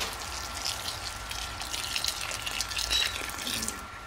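Water pours into a mix of potting soil and compost with a soft, steady splashing trickle, fairly quiet and continuous at close range.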